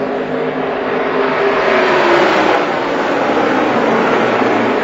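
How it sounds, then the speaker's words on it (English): NASCAR stock cars race at Auto Club Speedway in 2015, their engines making a loud, steady roar that fills the whole stretch without pause, with no commentary audible over it. "Paul Menard is pushing that 41 car right out to the lead"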